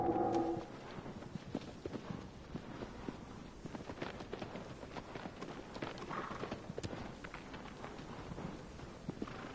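Horse hooves clip-clop in a steady rapid rhythm in the video game Shadow of the Colossus, faint and continuous over an outdoor ambient background.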